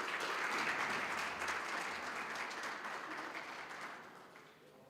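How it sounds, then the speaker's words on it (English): An audience at a student support services indaba claps steadily for a deputy principal, the applause starting full and slowly fading over about five seconds. "Ladies and gentlemen, give her a round of applause."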